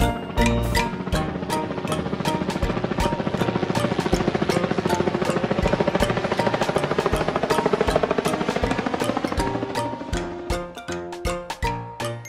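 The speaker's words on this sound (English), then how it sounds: "fire rescue helicopter." Toy fire rescue helicopter running its loud, continuous electronic rotor and siren effect with a busy, rapid pulsing beat throughout, close and alone, thinning out toward the end.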